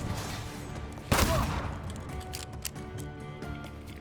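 A single loud gunshot blast in the video game Thaumaturge, a sharp broadband crack followed by a short decaying tail, with faint game ambience and scattered smaller clicks afterward.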